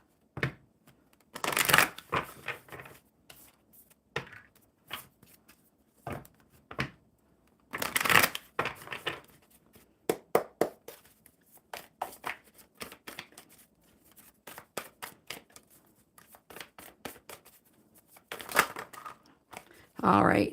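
Oracle cards being shuffled by hand, with repeated bursts of riffling and soft card taps spread across the clip, close and fairly loud with quiet gaps between.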